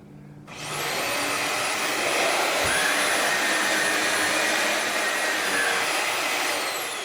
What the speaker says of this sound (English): the brush roll will activate when you're on number 2